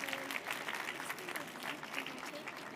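Audience applause at a departmental final of a children's reading competition, steady clapping from a seated crowd filling the room for a few seconds without pause.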